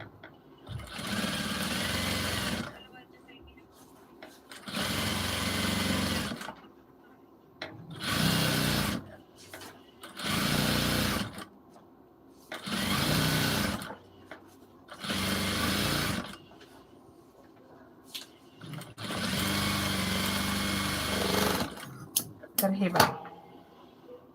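A sewing machine stitches a puff sleeve onto a silk saree in repeated loud runs of a few seconds each, separated by short pauses, with talk at times.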